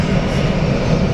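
Steady, loud roar of an Airbus airliner's engines at Frankfurt airport, a continuous broadband drone filling the short stretch without variation and with no talk over it.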